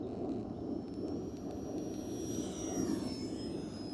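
Small UMX Viper 30mm electric ducted-fan FPV RC jet flies inverted, its steady high-pitched whine holding close and constant over broadband wind rush, with a gentle pitch shift as it passes.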